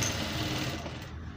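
A sewing machine stitches crinoline hem pieces together in a quick, continuous mechanical run, close and steady for the whole short stretch, with no voices.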